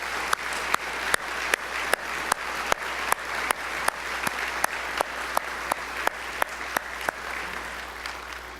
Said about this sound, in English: round of applause for 5 years of service and a great work on this initiative